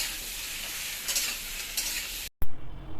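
Food frying and being stirred in a hot pan makes a continuous close sizzle with a couple of louder scraping bursts, then a brief cut and a sharper sizzle near the end.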